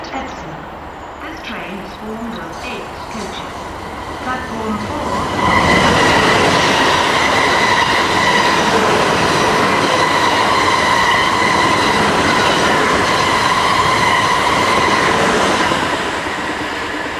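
A Southwest train service pulls into platform 4 at a suburban Surrey station, its rumble swelling loud and steady with clattering wheels and a faint high squeal while a station announcement plays over it.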